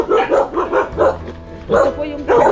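A dog barks repeatedly in short bursts close by, mixed with people talking and calling out over the barks.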